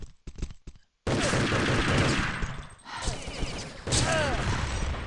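Gunfire in the Urban Terror shooter during a competitive cup match on the map Overgrown: a few quick shots, then sustained loud bursts of automatic fire with mechanical clatter, fairly close, under faint commentary.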